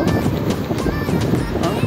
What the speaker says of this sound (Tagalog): Hangin guys,